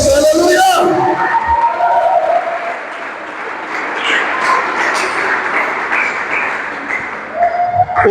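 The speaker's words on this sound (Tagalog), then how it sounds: "Yung malakas na palakpak sa Diyos" Church congregation clapping loudly for God during a Sunday worship service, a sustained wash of applause from a large crowd in a hall, with a preacher's amplified voice speaking over it at start and end.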